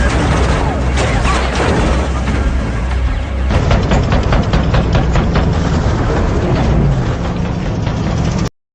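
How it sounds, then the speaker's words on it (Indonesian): Sustained film gunfire rattles in a dense, unbroken barrage over roaring race car engines, loud and close, with the volley intensifying midway before cutting off abruptly at the end. "Terlihat Jensen mendapatkan berondongan peluru dari Joe yang tiada henti."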